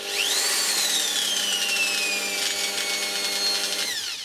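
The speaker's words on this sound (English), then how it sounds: "That is the drill going at full speed, apparently." A Tacklife PID04a corded hammer drill runs at full speed, its motor whining steadily and loudly with a high pitch that rises sharply at start-up, drifts slowly lower, then winds down at the end, with no talk.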